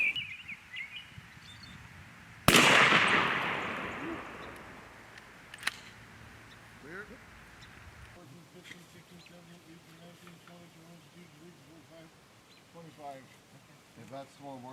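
A single shotgun blast from bismuth shells during a spring turkey hunt: one sudden, loud report with a long fading tail outdoors, followed by quieter ambient rustling and faint bird calls.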